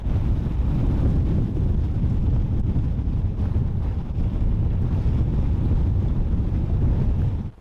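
Sailboat under full sail with reef shaken out of the main and full genoa set, off Vancouver Island: loud continuous wind rush and buffeting with water wash, no speech.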